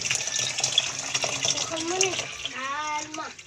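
Water runs steadily from a tap in a home kitchen while fish soup is being cooked, with the stream's pitch shifting as it fills a container and a voice talking over it.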